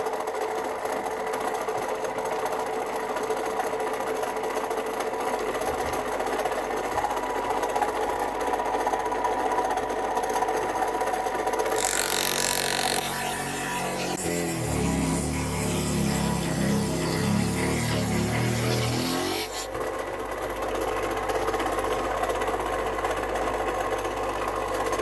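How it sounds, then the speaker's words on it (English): A small, underpowered tabletop electric saw with a small-diameter blade cuts through a workpiece in several passes, a steady mid-pitched machine whine running throughout, turning rougher and heavier as the blade bites in the middle stretch before easing back. "The machine isn't very powerful. I have to make the cut in several passes, constantly increasing the width of the kerf."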